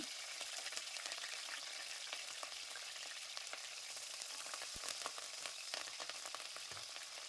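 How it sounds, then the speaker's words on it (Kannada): Crushed garlic and curry leaves frying in hot oil in a pan for an onion khara, giving a steady, close, crackling sizzle that holds throughout with no talking. "ಬೆಳ್ಳುಳ್ಳಿ ಸ್ವಲ್ಪ ಫ್ರೈ ಮಾಡ್ಕೊಳ್ಳೋಣ"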